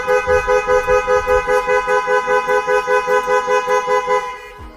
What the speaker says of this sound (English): you're going to hear the horn go mad, and the only way to switch it off is the code